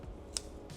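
Kitchen scissors trimming fat off raw chicken during meal prep make a single short, crisp snip up close, quiet and isolated against a low room background with no talking.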